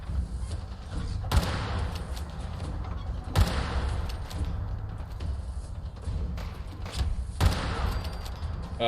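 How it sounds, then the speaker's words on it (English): Lever-action .45-70 rifle fire in Fallout 4, a few loud, sharp shots spaced a couple of seconds apart over a dense, rumbling game soundscape with scattered impacts. "I'm using the 4570 lever action rifle."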